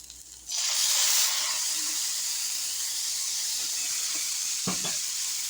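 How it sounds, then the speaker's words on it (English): Food sizzles loudly in a hot frying pan, a sudden burst of crackling hiss that settles into steady frying with a few stirring clatters. "we're still browning these before we add the onions"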